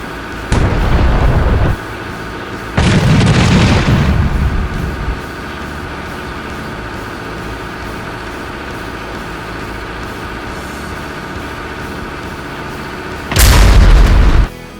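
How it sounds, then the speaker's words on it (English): Demolition charges detonate to bring down a steel and concrete building, heard as three loud, separate booms with a rumbling tail after the second and a quieter pause before the last. "The air vibrated with energy as the charges detonated."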